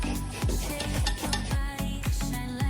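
Pumpkin mixed with jaggery and ginger powder for a traditional Karnataka sweet kadubu: close, regular scraping strokes repeat about twice a second in a steady rhythm, with no talking.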